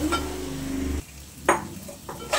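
A spoon stirs a nearly dry broccoli and potato curry topped with fresh coriander in a pan over low sizzling heat. A steady frying hiss gives way to a few sharp scraping strokes against the metal.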